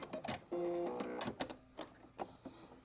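A sewing machine runs in short bursts as it stitches fabric for a strappy jockstrap, a close, quiet mechanical whir starting and stopping several times with no talking.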